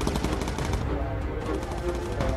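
A bomber's gunner turret firing at enemy fighters in the Bomber Crew game: continuous rapid machine-gun bursts, loud and close, rattling without pause for the whole moment.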